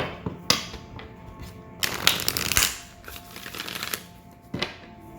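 Tarot cards being shuffled up close, a crisp riffle of flicking and rustling with a few sharp taps, fairly quiet and without talk.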